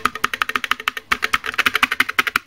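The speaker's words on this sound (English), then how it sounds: "a busted original Macintosh keyboard" Keys clack in a fast, steady run on a worn original Macintosh mechanical keyboard, each stroke sharp and close with no voices over it.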